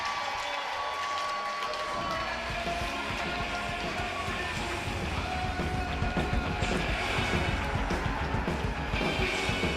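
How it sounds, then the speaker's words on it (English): A youth hockey rink crowd of pre-K players' families claps and cheers steadily, a broad, moderately distant wash of applause and chatter that swells slightly toward the end. "And listen to the cheer."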